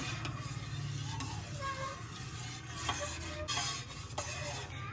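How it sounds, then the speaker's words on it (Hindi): A spoon stirs a rasmalai milk mixture in a pot, giving a steady low scraping and swirling that runs continuously with faint background noise. "उसके बाद हम इसके अंदर एक बार चम्मच हिलाएंगे"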